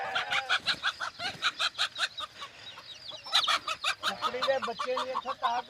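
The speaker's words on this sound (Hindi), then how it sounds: "मुर्गियां भी है।" Chickens on a farm in Saudi Arabia cluck and cackle in a rapid run of repeated calls, close and fairly loud, with a few higher squawks mixed in.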